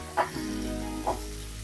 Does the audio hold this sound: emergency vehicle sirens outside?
no